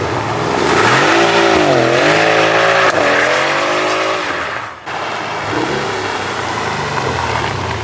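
A Mercedes car engine with a modified intake and exhaust is heard close up, its tone rising and falling through a few throttle blips, then dropping to a steadier running note after a brief dip.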